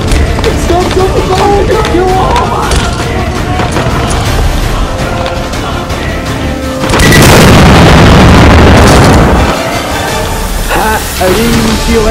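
Animated cartoon bomb going off as a loud, broad explosive roar lasting a couple of seconds, standing out from a busy bed of music and effects.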